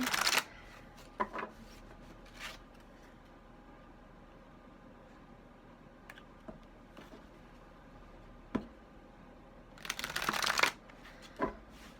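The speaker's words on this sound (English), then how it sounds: "Trying very hard to get better at my shuffling with big cards" Large tarot cards being shuffled by hand: several short riffling bursts separated by long quiet gaps, with the longest and loudest flurry near the end, close and with no talking.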